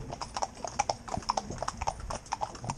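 Hooves of a horse working in a tandem pair clip-clop on a road at a walking pace, a quick, even run of close, crisp strikes.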